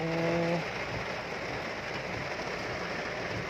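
Heavy rain pours down as a steady, even hiss of falling water, with a brief tonal horn-like sound at the very start.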